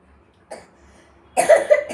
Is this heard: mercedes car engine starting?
no